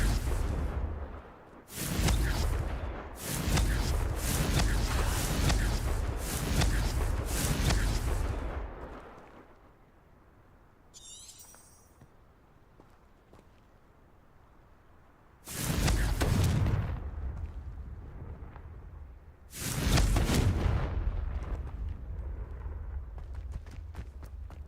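Confringo blasting spells fired in the Hogwarts Legacy video game, heavy booming explosions in several loud bursts over about ten seconds, a quieter stretch, then two more big blasts.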